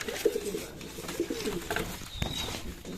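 Pigeons in their loft cubbies coo softly and close by, with a few low, throaty calls over a quiet background.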